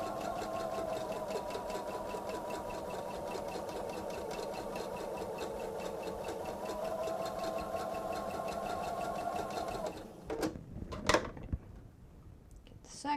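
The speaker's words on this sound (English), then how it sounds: "we've got a seam pressed the opposite direction we're sewing" Sewing machine stitches a seam on a bench pillow in a fast, steady whirring run for about ten seconds, then stops, leaving a few clicks and light handling noises.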